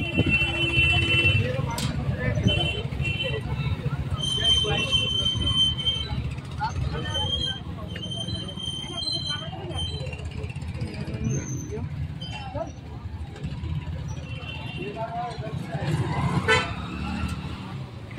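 Busy traffic crawls along Mussoorie Mall Road amid a crowd, with repeated car horn toots and engine rumble throughout and people talking nearby.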